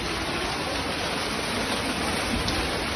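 Heavy rain pours down in the town centre of Mossoró, a dense, continuous roaring hiss of downpour that stays steady and loud throughout, with no voices.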